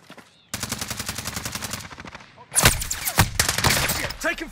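Gunfire in Call of Duty Modern Warfare: rapid automatic bursts with a steady fast rhythm, then heavier, louder volleys. A player speaks briefly among the shots.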